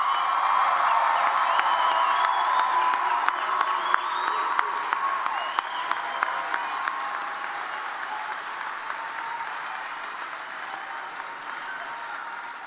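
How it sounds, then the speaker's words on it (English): A large commencement audience applauds the graduates with sustained, dense clapping that holds steady and slowly tapers over about twelve seconds, with scattered sharp claps standing out. "let's give our graduates one final round of applause"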